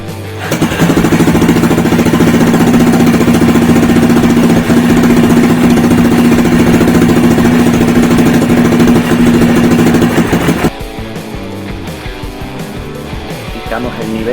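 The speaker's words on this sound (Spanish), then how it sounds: "Ya sería arrancar el motor para que caliente" A Yamaha Raptor 350 quad's engine runs at idle to warm up after an oil change, a loud, steady, close-up rattling drone with a strong low hum that cuts out abruptly near the end.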